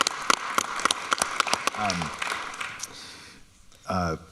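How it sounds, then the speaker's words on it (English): Live podcast audience clapping for chefs, a burst of scattered claps that thins out, with voices speaking briefly near the end. "I think we can clap for that"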